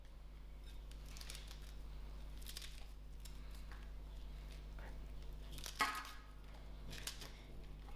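Scissors snip a handful of Thebe herbs for a traditional sour dhal, giving a few faint, crisp cuts at irregular intervals against quiet room hum.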